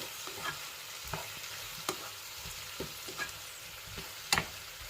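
A spoon stirs a spiced mixture with berbere and salt in a hot pan, giving soft scrapes and occasional knocks over a low steady sizzle, close and without talk.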